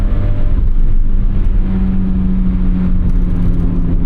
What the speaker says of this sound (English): but I love the sound with this new exhaust.